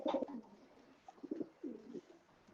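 Racing pigeons in a loft coo softly, several low, rolling coos spaced irregularly and heard fairly faintly and close, with no talking over them.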